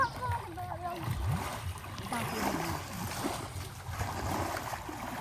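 Children splashing in a pond while learning to swim for the first time, with choppy, irregular water splashes close by throughout, under an adult's continuous instructing voice.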